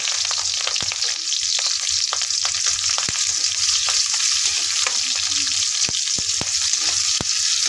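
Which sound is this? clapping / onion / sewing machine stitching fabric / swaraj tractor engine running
onion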